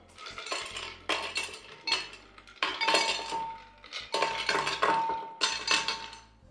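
Ice cubes from a tray clatter into a blender jar in bursts of clinking and rattling, several separate tumbles over a few seconds, close and fairly loud, with no talking.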